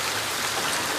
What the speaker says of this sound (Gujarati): બતાવું કે બહાર કેવો વરસાદ પડે છે